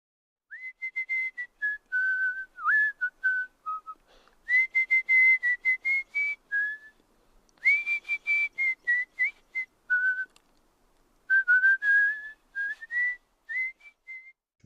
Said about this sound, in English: He whistled a tune to the window